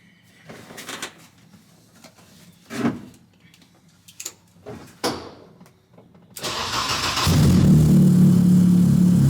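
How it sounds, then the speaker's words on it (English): A BMW E30 M3 with the S14 engine and a newly fitted MagnaFlow muffler is heard. A few scattered knocks come first, then the engine cranks and fires near the end and settles into a loud, steady idle rumble. "that MagnaFlow muffler that we just put in is a lot bigger"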